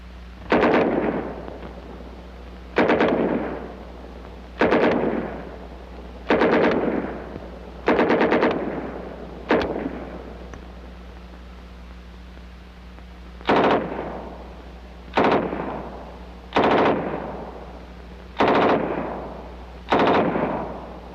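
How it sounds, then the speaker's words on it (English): An M3 .45 caliber submachine gun firing in a series of short bursts, about ten sharp volleys spaced a couple of seconds apart, fairly distant with a pause midway. "And our new submachine pistol caliber .45 M3."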